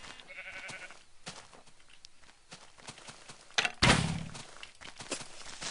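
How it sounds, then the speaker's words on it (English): A Minecraft sheep bleats twice close by in quick, nasal bursts early on, followed later by a loud thudding knock among quieter game sounds. "There's another sheep."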